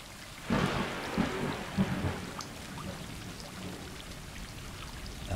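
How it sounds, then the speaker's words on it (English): Rain in the opening of the video game Stray, a steady hiss of falling rain with a low rumble of thunder swelling early on, then easing to an even patter. "Opening with rain."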